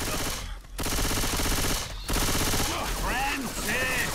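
Sustained automatic gunfire from the Left 4 Dead 2 co-op game, dense and loud across the whole stretch, briefly dropping out twice, with a voice speaking over the later part.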